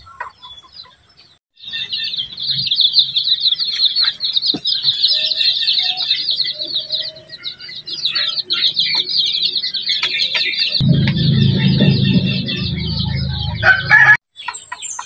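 Young farm-raised chickens, one to two months old, keep up dense, high, continuous peeping and chirping close by, with lower clucking joining loudly near the end.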